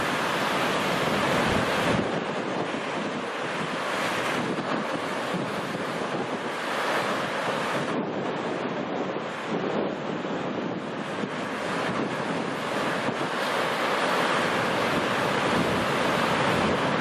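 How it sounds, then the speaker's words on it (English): Heavy storm waves pounding the side of a Russian oil tanker in the Baltic Sea, a loud continuous wash of surf and wind buffeting the microphone, with surges and brief lulls, no voices. "During a heavy storm in the Baltic Sea, this Russian oil tanker was hit by a monster wave from the side"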